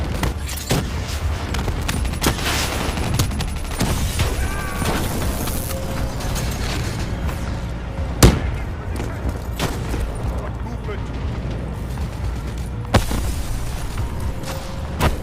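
Call of Duty Black Ops 3 combat brings loud, dense gunfire bursts and booming blasts, with one sharp explosive hit midway and another near the end, alongside occasional in-game voices.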